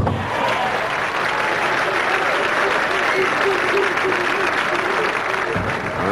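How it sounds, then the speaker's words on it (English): Bowling crowd at the 1992 Petraglia Open applauding steadily and loudly for about six seconds, a dense wash of clapping that drops off sharply near the end. "crowd really getting into it now"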